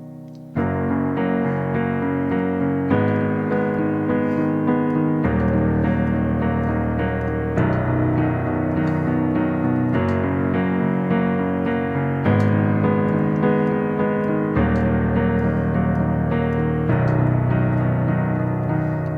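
Sustained chords ring out in a steady progression, changing every couple of seconds, with deep bass notes beneath fuller harmonies and no voices.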